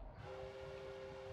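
A video game train sounds a sustained horn tone over low rumbling, faint and brief.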